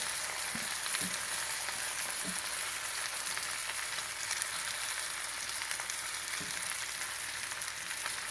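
Sockeye salmon fries in oil, a steady, close sizzle and crackle running throughout with a few soft stirring taps.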